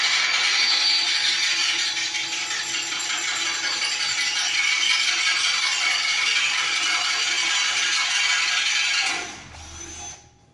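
A drill bit cuts slowly into 316L stainless steel at low speed under light pressure, making a steady, loud, grinding rattle for about nine seconds before it winds down and stops, with no talking.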